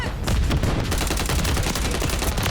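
Rapid, loud gunfire from a Call of Duty match rattles on without a break, a dense automatic stream of shots, close and unbroken, with no talk over it.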